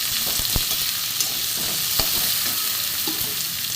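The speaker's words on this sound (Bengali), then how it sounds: "এতে পেঁয়াজটা একটু ভেজে নেবো।" Chopped onion frying in hot mustard oil with black cumin seeds, a loud dense sizzle held close throughout, with a couple of sharp spatula knocks against the pan.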